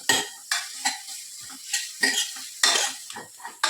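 Biryani masala sautéed in a pan: a utensil repeatedly scrapes and clinks against the metal in an irregular stirring rhythm over a soft sizzle, close and fairly loud, with no talking.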